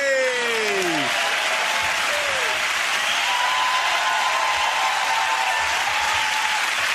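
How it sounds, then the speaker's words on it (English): A studio audience at the comedy panel show Mock The Week applauds loudly and steadily, a dense, sustained roar of clapping with a few cheers near the start, lasting the whole stretch. "give that round of applause to James,"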